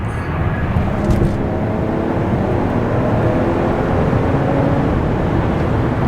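A Jeep Wagoneer with the Hurricane twin-turbo inline-six accelerates hard from 50 mph, a loud, steady engine and road roar building inside the cabin.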